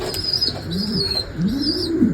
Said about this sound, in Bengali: এটা হচ্ছে একটা কবুতর